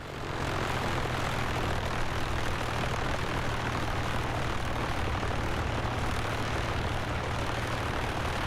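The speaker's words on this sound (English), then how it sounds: "let's go ahead and shut down our aircraft" A light general aviation aircraft's engine in Microsoft Flight Simulator 2024 drones loudly and steadily throughout, a close, continuous propeller hum with no clear drop in power.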